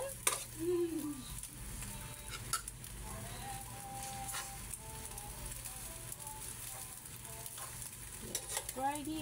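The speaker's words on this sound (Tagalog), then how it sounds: "Let's fry the eggs." Eggs frying in a pan with a soft, fairly faint sizzle, scraped and stirred now and then, while a voice and other bright household sounds break in.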